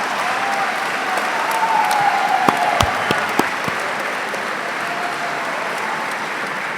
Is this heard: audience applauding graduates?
yes